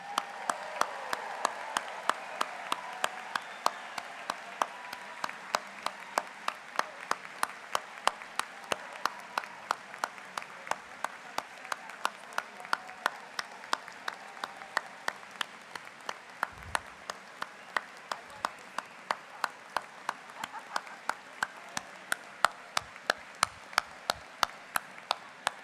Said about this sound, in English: let's give the graduates one more round of applause.